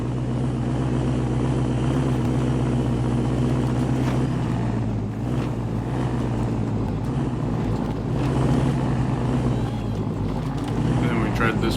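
In the video game SnowRunner, a Jeep Gladiator's engine strains and drones continuously while the truck struggles on a trail, a steady low labouring hum with occasional knocks, and a voice talks over it.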